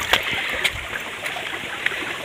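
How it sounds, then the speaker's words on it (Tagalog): A clear river in a mountain area flows with steady babbling and trickling close by, with a few brighter splashes and drips standing out. "May ilog."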